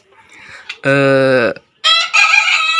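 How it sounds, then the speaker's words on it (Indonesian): Close, loud rooster crowing in two bursts, a short strained crow and then another harsh call, with faint rustling before. "Gimana ya caranya biar dia gak kokok terus?"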